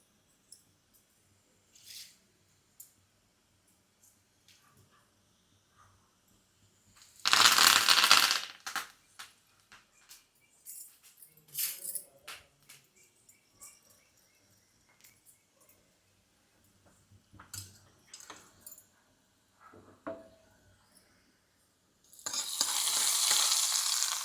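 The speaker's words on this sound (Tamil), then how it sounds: "இப்போ நம்ம தாளிச்சிடலாம்" Spices tempered in hot oil for radish chutney, with two loud bursts of sizzling crackle near the middle and at the end, separated by quieter clinks and stirring noises.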